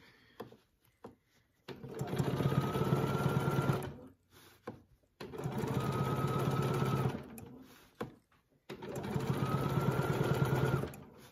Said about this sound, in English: I'm just gonna stitch in the ditch down to here.